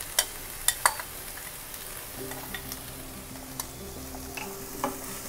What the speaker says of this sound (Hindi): इसे अच्छी तरह से मिक्स कर लेते हैं।